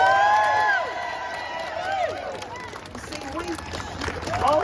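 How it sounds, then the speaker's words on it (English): A crowd at a political speech event in Manchester cheers and whoops, loud at first, then settling into a sustained roar of voices with scattered shouts, rising again toward the end. "we should give them a big cheer."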